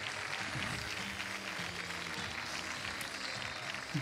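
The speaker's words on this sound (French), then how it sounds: "continuez vos applaudissements" Audience applause after a young rider's show jumping round at an equestrian competition, a steady wash of clapping with an arena announcer's voice running over it.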